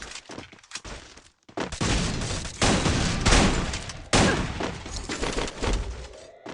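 Bursts of sniper and automatic gunfire in a battle-royale video game, loud and dense with overlapping shots and booms after a brief lull near the start.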